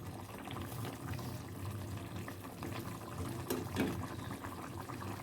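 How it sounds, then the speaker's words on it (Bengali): Liquid simmers and bubbles in a cooking pot, a soft steady burble of small pops with one brief louder splash near the end, quiet and close with no talking. "ভালোভাবে ফুটে গেলে আমি এটাকে নামিয়ে নেব।"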